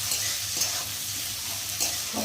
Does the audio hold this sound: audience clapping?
no